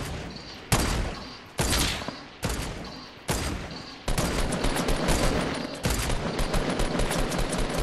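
Fortnite gunfire in a match: several separate loud bursts of rapid shots at regular intervals, then a longer sustained stretch of automatic fire, close and dominant.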